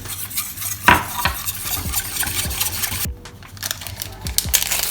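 A spoon stirs whole wheat flour into a tiramisu cream mixture in a pot, giving repeated scraping and clinking strokes at close range over a faint background hiss, with a short quieter gap midway.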